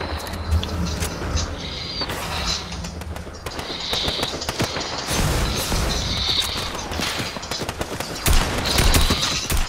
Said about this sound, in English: who the fuck is shooting at me, bro?